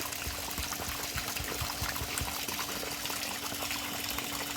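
Water pours steadily into a giant gourami fish pond, a constant loud gushing and splashing that holds unbroken throughout.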